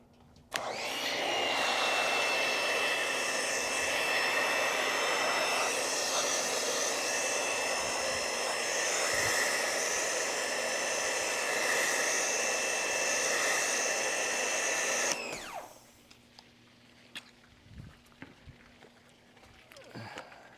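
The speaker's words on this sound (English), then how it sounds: "I'm gonna foam it one more time, and then rinse it, and then we'll be done for the night." A foam cannon or pressure washer sprays Aquabead foam over a car, a loud steady hiss with an even motor whine lasting about fifteen seconds before cutting off abruptly, leaving quiet background with a few faint knocks.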